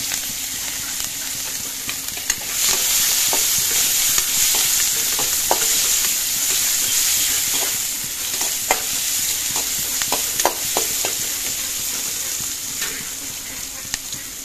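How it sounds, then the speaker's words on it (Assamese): Onions fry in oil for a fish curry, giving a loud, continuous sizzle punctuated by frequent scraping stirs and clicks of a spoon against the pan, close by, with no speech. "সেই তেলতে পিঁয়াজখিনি দি দিছোঁ"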